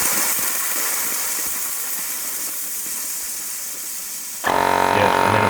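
An air compressor on a modified foam pumper runs with a steady hiss and mechanical hum, then kicks on louder and harsher near the end as pressure builds again.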